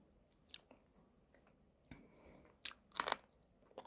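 Crispy food, eaten with melted butter at a home-cooked family meal, is bitten and chewed in a few quick, close crunching bursts, the loudest near the end, with quiet pauses between them and no talk.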